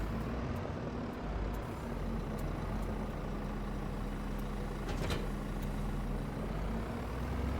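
A tractor engine idles steadily in Farming Simulator 25, a low continuous rumble held at an even level throughout, with a brief hiss or clank around the middle.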